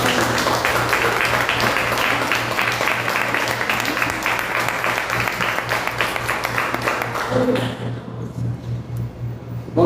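A church congregation at a Quadrangular Sunday Bible class claps together in a dense, sustained round of applause that thins out and fades near the end.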